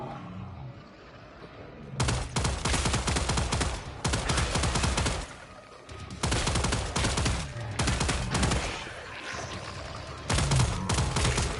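Automatic gunfire rattles in Killing Floor 3 in long, loud, dense bursts separated by short pauses, with sharp single shots close up.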